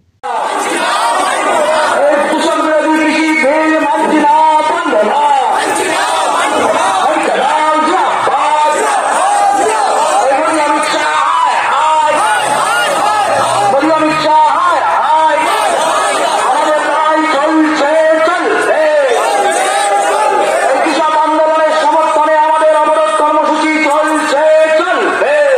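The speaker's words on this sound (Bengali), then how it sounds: "আজ ফুলিয়া বিডিও অফিসের সামনে সিপিএম এর তরফে এই আইন বাতিলের দাবিতে বিক্ষোভ দেখানো হয়।" Protesters demonstrating and blocking the road outside the Fulia BDO office, a loud crowd chanting and shouting slogans together in steady, sustained waves close by.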